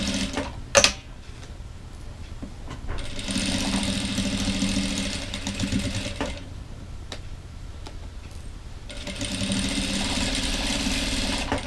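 Sewing machine stitching a dish towel, running in several bursts of steady whirring separated by pauses filled with faint clicks and handling sounds.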